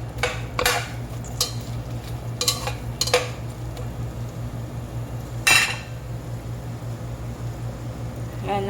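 Garlic being stirred in a pan, a spoon scraping and clinking against the metal in several quick bursts over a steady low hum, fairly close, with no talking.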